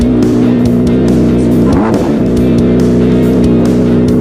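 A motorcycle engine idles and revs loudly and steadily close by, a constant throbbing drone with one short rising rev in the middle.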